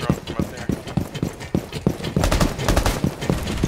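Gunfire in Rainbow Six Siege on the Consulate map, a fast run of sharp, loud shots in uneven bursts over steady game noise, with a voice talking briefly.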